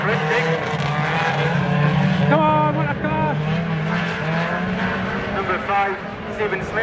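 Banger racing cars roar around a local oval track, engines loud and close with tyres squealing and revs rising and falling as cars pass, while a commentator talks over the action.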